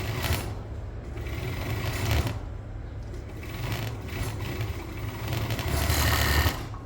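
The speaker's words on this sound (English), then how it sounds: "I'm overlocking from the right side of the fabric here and just letting the fabric feed through naturally" Overlocker serger stitching seams on children's t-shirt fabric, a steady, continuous mechanical whir with a rapid needle chatter that swells slightly in places, close and alone without talk.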